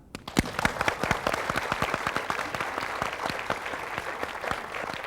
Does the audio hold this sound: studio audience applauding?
yes